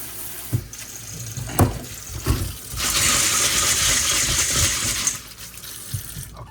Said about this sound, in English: I'm going to take this black beans, and I'm going to rinse them.